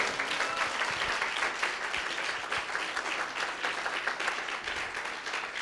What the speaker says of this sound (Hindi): कोई जोर से ताली बजा के प्रभु को धन्यवाद दे।